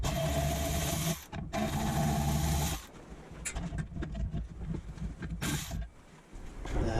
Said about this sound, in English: I'll sandblast the rest of it because these injectors have been leaking and I want to get all that clean